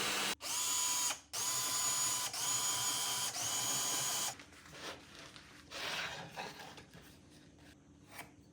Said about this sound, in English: Now I'm just going to drill out these screw holes and add a fence.